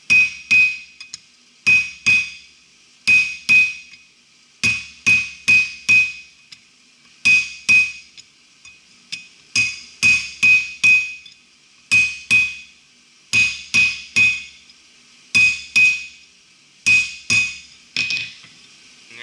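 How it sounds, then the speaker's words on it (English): A small hammer strikes hot steel on an anvil while a blacksmith forges a diamond finial, ringing metallic blows that land in quick bursts of two to four, with short pauses between groups, close and loud with no talk. "If you're more accurate with a small hammer, then for this exercise, use a small hammer."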